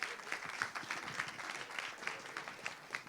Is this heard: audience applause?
yes